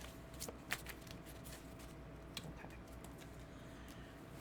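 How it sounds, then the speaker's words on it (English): Tarot cards shuffled quietly at a distance, soft faint flicks and pats scattered over a low steady room hum, with a couple of slightly sharper taps. "I'm going to shuffle your cards"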